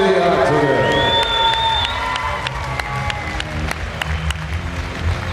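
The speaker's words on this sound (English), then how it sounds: "Can we have a round of applause, please, for the two warriors inside the octagon?" An arena crowd applauding and cheering the two fighters inside the octagon after an MMA bout, dense clapping and whoops under an announcer's amplified voice at the start, then sustained applause.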